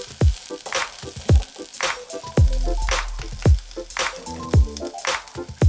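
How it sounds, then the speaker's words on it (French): Langoustine carcasses hit hot oil in a small saucepan, giving sharp crackling pops at irregular intervals over a low, steady sizzle. "Une petite casserole qui est en train de chauffer. Un peu d'huile. On va venir y ajouter nos carcasses de langoustines."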